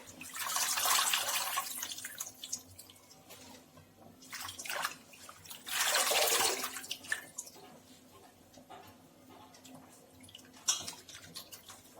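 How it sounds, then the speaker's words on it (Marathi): Safflower (karadai) greens are washed in water, giving a steady sloshing and splashing with several louder surges and a few drips. Close and fairly quiet, with no talking. "एक ते दोन वेळा ही भाजी छान अशी धुवून घ्यायची आपल्याला।"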